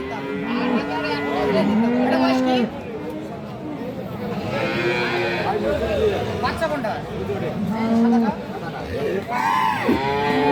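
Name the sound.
cattle mooing at a livestock market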